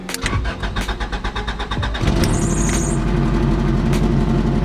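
A car with an idle air control valve left disconnected cranks with a rapid starter churn for about two seconds, then catches and settles into a loud, steady close idle with a brief high whine.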